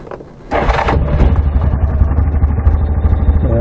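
A 2006 Yamaha Rhino FS utility vehicle engine starting: a short quiet moment, then a sudden cranking catch into a loud, close, rough mid-pitched idle with steady pulsing clatter.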